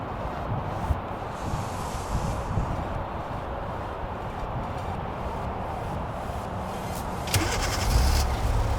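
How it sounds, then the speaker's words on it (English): A 2019-2021 Kia Forte with a key-ignition remote starter runs outdoors, its low, steady engine rumble mixed with wind buffeting the microphone, growing slightly louder near the end. "And here you go, the car is running."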